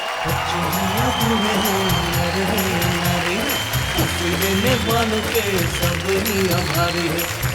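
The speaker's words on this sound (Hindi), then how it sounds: "हम जोरदार तालियां बजाएंगे डॉक्टर सुरेंद्र दुबे के लिए" Loud applause for Dr. Surendra Dubey as he is honoured on stage at a comedy poetry show, steady and sustained across the whole stretch beneath music and chatter.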